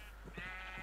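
A Minecraft sheep bleats faintly, a short nasal wavering call over a steady low hum.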